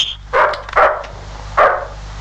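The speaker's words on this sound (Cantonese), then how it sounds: "隻死狗咁唔好瞓啊，嗌極都唔聽係嘛？" A dog barks three times, close and loud, two quick barks followed by a single one after a pause, over a faint low hum.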